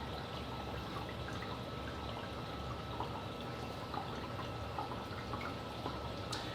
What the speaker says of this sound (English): most of the sound is coming from the bubbling over onto this sock